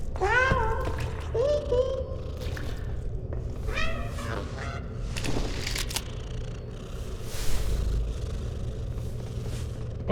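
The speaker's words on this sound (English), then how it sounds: "This is meowing." A cat in the isometric open-world RPG DDoD meows several times in quick succession near the start, then more scattered meows follow over a low game rumble.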